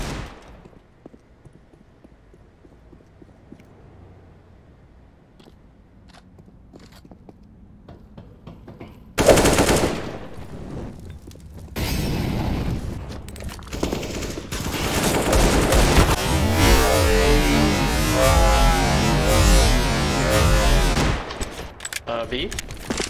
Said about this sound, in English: Yo, you shot your AK to me.